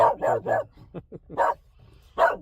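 A dog barks close by in a quick burst of three barks, then a couple of short yips and two more loud barks, alone with no talking.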